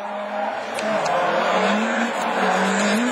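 A rallycross car spins out on a race track, its tyres skidding and squealing in a loud, sustained smear. Engine noise runs beneath it, and a commentator's voice is faintly audible.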